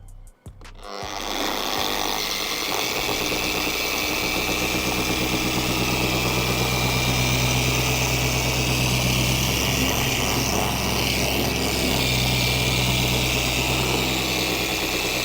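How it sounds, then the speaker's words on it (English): Machine polisher running continuously with a pad cutting and polishing car paint, a steady close whine and hum that starts up in the first second and holds at an even level throughout. "I want to give that pad and machine enough time to actually cut down these defects."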